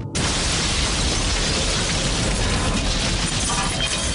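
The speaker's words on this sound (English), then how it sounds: "a terrifying explosion rips through Legian Street." A bomb explosion tears through Legian Street in Bali, a loud, sustained broadband roar filling the whole clip with heavy rumble and crackling debris and no voices.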